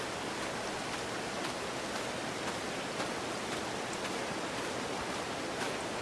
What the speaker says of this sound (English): of course now it's raining